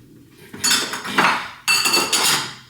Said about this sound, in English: Dishes out there.